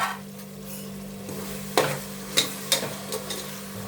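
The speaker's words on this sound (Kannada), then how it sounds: "ಸೊಪ್ಪು ಟೊಮೊಟೊನೆಲ್ಲ ಬೆಂದಿದೆ ಇವಾಗ ಮೊಸರು ಹಾಕ್ತೀನಿ ಸಾಕಷ್ಟು ಮೊಸರು" Curd being stirred into cooked greens and tomatoes for a simple chicken biryani, a soft steady sizzle with a few sharp spoon scrapes and knocks against the pot near the end, no voices.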